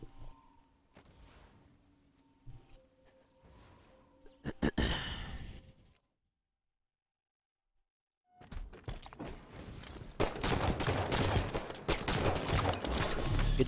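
Gunfire in a first-person shooter video game comes in bursts, first a quick volley, then after a silent gap a dense, loud barrage of shots and action noise that continues to the end.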